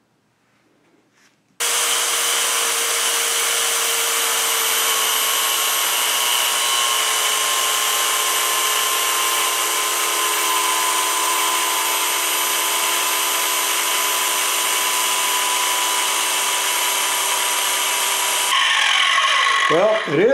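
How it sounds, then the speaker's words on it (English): An angle grinder with a 1/8 inch cutting blade cuts into a steel maul head, starting abruptly after a brief quiet and holding a loud, steady high-pitched whine for about seventeen seconds, then shifting tone as it winds down. "I have a cutting blade on my angle grinder, a 1/8 inch blade"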